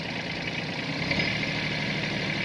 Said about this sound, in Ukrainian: Тепер перевіримо ґрунтофрезу. Це перша швидкість, це друга швидкість